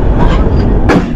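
A train at Santahar railway station in Bangladesh rumbles with a broad, steady rolling noise, joined near the end by a brief sharp burst, close and fairly loud.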